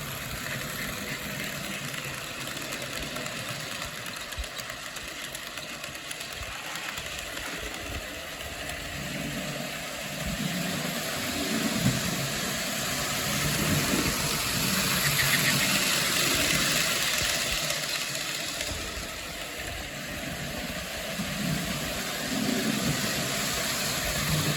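A Kato GP7 HO-scale model locomotive motor hums steadily and throttles down, a continuous whirring drone at an even level with no talking.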